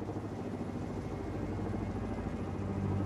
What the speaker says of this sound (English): Apache gunship here, sir. Chopper is ready.